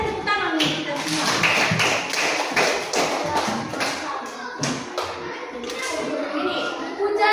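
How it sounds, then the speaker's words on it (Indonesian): A class in a teaching practice session claps hands together in a steady run of close, loud claps, with children's voices talking over the clapping throughout. "kita tepuk tangan nih kita semua"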